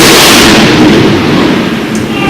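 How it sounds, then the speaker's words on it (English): An outdoor cannon blast rolls out as a loud, sustained boom and rumble that fills the whole stretch, broad and heavy with no clear separate shots. "The cannon went off behind us."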